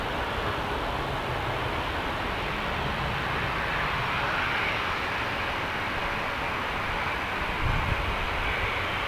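A Jet2 Boeing 737-800 at Manchester Airport gives a steady, broad engine roar that holds at an even, fairly loud level from a moderate distance with no talk.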